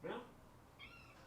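A cat gives a short meow up close, followed by a faint higher squeak, amid a quiet room.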